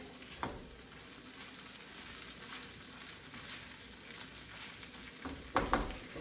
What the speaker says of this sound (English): cook the hash browns on the stove a little bit before you throw them into your casserole